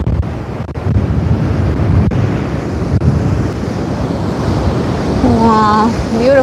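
Ocean surf rolls onto the shore at the tip of a South Carolina island, a loud, continuous wash of breaking waves mixed with gusty wind noise, and a voice rises briefly near the end.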